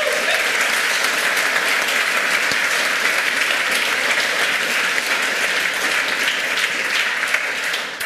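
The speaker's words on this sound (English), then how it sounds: "Give these guys a huge round of applause for making the first step" A conference audience at a hacker congress gives a huge round of applause, dense sustained clapping that fills the hall and stays steady throughout.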